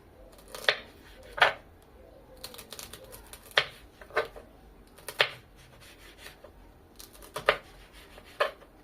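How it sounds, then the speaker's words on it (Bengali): Green chillies being chopped with a knife on a board for a Kabuli chickpea salad: sharp, close, irregular cuts, about a dozen spaced taps over several seconds, with no talking. "এবার কাঁচা লঙ্কাগুলো কেটে নেব।"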